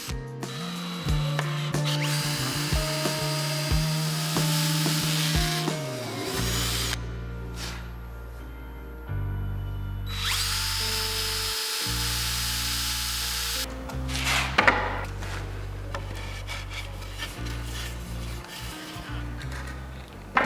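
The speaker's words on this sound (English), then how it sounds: "Using a countersink bit, I pre-drilled and screwed the support pieces to the legs." A power drill fitted with a countersink bit pre-drills into wood support pieces for a child's clothes rail, running in long steady whirring bursts with brief pauses and a change in pitch, close and loud with no talk.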